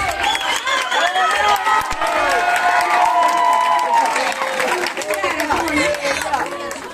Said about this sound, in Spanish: quiero un fuerte aplauso para todos los que actuaron